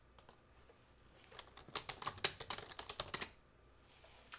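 Computer keyboard typing in a quick burst of clicky keystrokes, close and moderately quiet, with a short pause before more taps.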